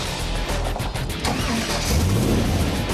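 A Poison Spyder Rock Rod tube-chassis off-road buggy engine cranks and catches at an off-road park, then settles into a rising, rumbling idle close by.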